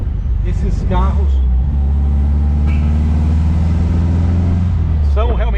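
An Athos 356 Roadster with a boxer engine drives along, its steady low engine drone running continuously at close range, with a brief mechanical hiss partway through and speech-like sounds near the start and end.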